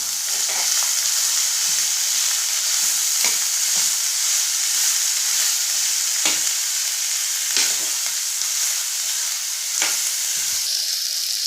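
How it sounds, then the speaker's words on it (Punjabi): Onions and okra sizzle steadily in hot oil in a pan, a constant bright frying hiss broken by a few sharp scrapes and clinks of stirring. "ਪਿਆਜ਼ਾਂ ਦੇ ਨਾਲ ਇਹਨਾਂ ਨੂੰ ਵੀ ਆਪਾਂ ਚੰਗੀ ਤਰ੍ਹਾਂ ਭੁੰਨ ਲਵਾਂਗੇ"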